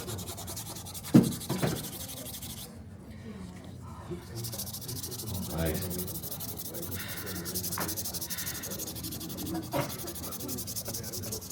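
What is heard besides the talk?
hand sanding wood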